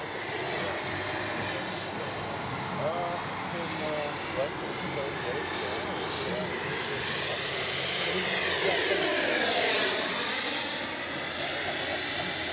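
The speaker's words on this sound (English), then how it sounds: "Flaps up. Gear tucked away. Turn and burn. Good flying, F-18." FMS 70mm F/A-18F RC jet flying overhead at a Florida field, a steady high-pitched turbine whine that swells and fades as it passes, with a voice talking underneath.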